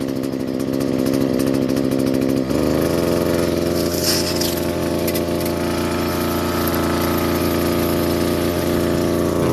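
An engine-powered sprayer applies thrips pesticide over a rice field; its small motor drones loudly and steadily throughout, and the pitch shifts slightly a few seconds in.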